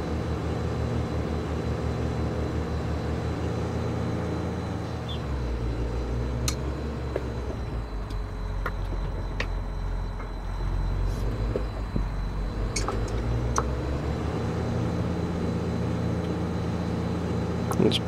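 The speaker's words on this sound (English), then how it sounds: "Skidding a single tree." A skidder dragging a single tree in Farming Simulator 22, a constant low engine drone with the machine's rumble rising and falling, sharp clanks and creaks scattered over it, plus a voice speaking briefly.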